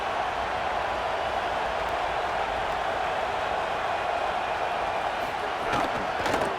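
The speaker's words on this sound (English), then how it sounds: "Listen to this crowd just shaking the girders of this place, trying to help their defense." A dense, continuous stadium crowd roar from EA Sports College Football 27 fills the space at steady loudness, with a few sharp thuds near the end.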